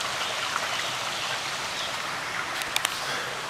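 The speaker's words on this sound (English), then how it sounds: "Made it here to Fitzgerald Falls." Water pours steadily at Fitzgerald Falls beside a hiking trail, a dense, constant rushing wash close by that fills the whole clip, with a couple of small splashy ticks near the end.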